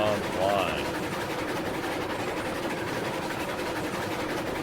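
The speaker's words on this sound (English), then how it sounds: "we are moving a proper freight train in RailRoads Online" A very long freight train of about 110 cars moving in RailRoads Online: a steady rumbling rolling drone with faint rhythmic clatter, continuous and moderately quiet, with a short tonal chirp near the start.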